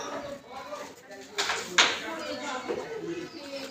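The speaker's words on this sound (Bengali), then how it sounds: "পায়রাগুলো দেখাচ্ছি পায়রা নিচে আছে আর কিছু পায়রা হাইটে আছে" Pigeons in a flock, some on the ground and some up high, coo softly in the background while a person talks over them.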